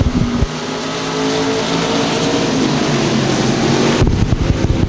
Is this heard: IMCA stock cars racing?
yes